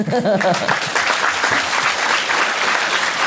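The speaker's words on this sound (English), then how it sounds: "I'm just saying I'm good and then you clap." An audience at a Buddhist sutra lecture applauds, a dense burst of clapping that continues steadily throughout, with a speaking voice briefly at the start.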